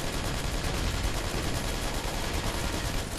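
Dense, continuous gunfire from the video game Toy Soldiers War Chest, a steady roar of overlapping shots and bursts that stays loud throughout with no clear gaps.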